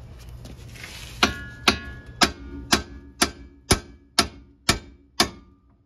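Sharp metallic hammer strikes on the axle shaft of a 2012 Ford Fusion ring out in an even rhythm, about ten blows spaced roughly half a second apart.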